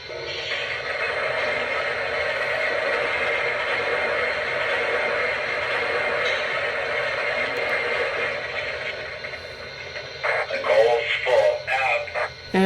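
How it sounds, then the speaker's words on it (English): A Lionel Camelback steam locomotive model plays its effect of coal being loaded into the tender: a long, dense rushing rattle, close and steady. It gives way near the end to brief voice-like bursts. "And here's the sound of coal being added to the tender."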